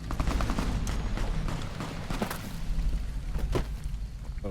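Sustained gunfire in the video game Fallout New Vegas, loud bursts and rapid volleys running continuously with sharp cracks standing out throughout.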